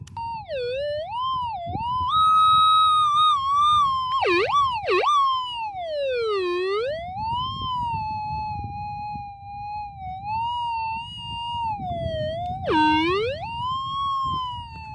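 A loud, continuous electronic tone from a Minelab GPZ 7000 metal detector with an 8-inch X-Coil, signalling a gold nugget target, warbles and sweeps up and down in pitch, dipping sharply a few times, over a low background rumble.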